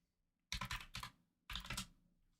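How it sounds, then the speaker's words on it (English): Typing on a computer keyboard comes in two close, loud bursts of rapid clattering keystrokes separated by a short pause, with near silence around them. "Are you typing?"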